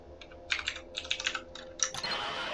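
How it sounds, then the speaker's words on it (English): Keys tapped on a computer keyboard while typing into an in-game chat, heard as quick, uneven bursts of soft clicks at moderate volume over a low background hum. "so now if I type in chat"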